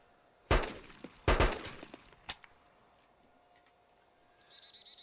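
Suppressed-ammunition gunshots in the DayZ video game: two sharp, fairly loud cracks about a second apart, followed by a fainter third shot and a few light clicks, with a quiet background.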